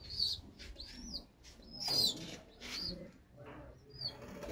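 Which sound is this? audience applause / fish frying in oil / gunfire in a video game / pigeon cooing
pigeon cooing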